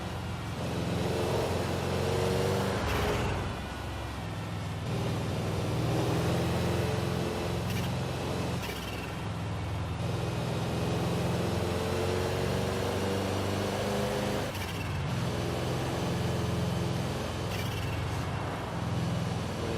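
A car engine in Forza Horizon 5 drones steadily throughout, rising and falling in pitch as it revs, with a few sharper bursts; no talking.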